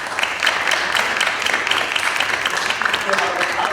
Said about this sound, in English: If we could give our presenter a round of applause,